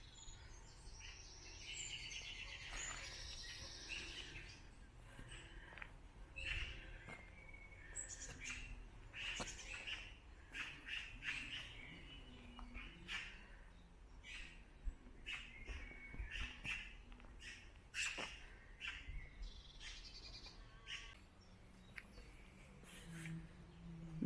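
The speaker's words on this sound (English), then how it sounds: "Tweety birds." Small birds chirp and tweet along a quiet country lane, with sharp, scattered calls coming steadily over faint outdoor background.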